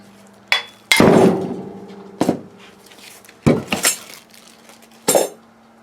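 Metal hammer blows on a brake caliper from a 2003 Ram 1500 two-wheel-drive rear brake, about six sharp ringing clanks spread irregularly with a steady hum underneath.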